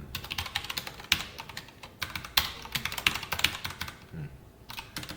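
Typing on a computer keyboard while writing Java code, a fast run of light, close key taps with a few sharper clacks, steady and uninterrupted with no voices.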